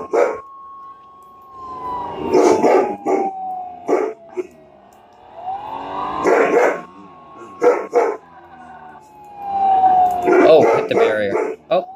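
A dog barks in short bursts and howls along with a wailing siren nearby, the barking coming in clusters over several seconds.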